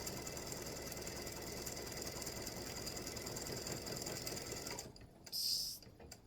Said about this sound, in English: it's just doing some satin stitching there, like an oblong type